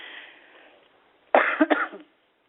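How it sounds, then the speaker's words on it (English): After a faint hiss, a close, harsh cough of two or three quick bursts breaks out, then stops. "the cough is back again"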